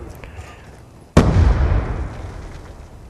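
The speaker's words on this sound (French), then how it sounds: "Attention, ça tire du côté de Coco." Gunfire in a Call of Duty match, heard as a single loud close blast or burst that decays over a couple of seconds, following a quieter stretch.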